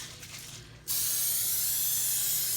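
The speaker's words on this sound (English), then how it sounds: "I'm going to spray them with pan spray" A steady, loud hiss of cooking spray starts abruptly after a short quiet moment and continues without a break.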